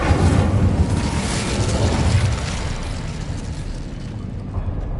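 An Incendio fire spell cast in Hogwarts Legacy bursts with a loud, rushing whoosh and rumble that trails off into a softer, fading roar.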